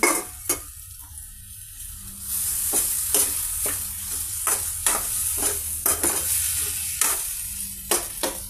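Egg and noodles stir-fry in a hot pan with a constant sizzle, punctuated by a rapid run of about a dozen sharp spatula scrapes and taps close up.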